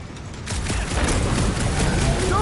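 Explosions and rapid gunfire in the Guardians of the Galaxy video game, a dense sustained barrage of blasts and shots that swells after a quieter start, with brief voices in the mix.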